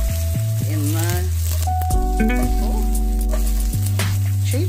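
Courgette fries in oil in a pan with a steady, loud sizzle throughout, under strong tonal background music.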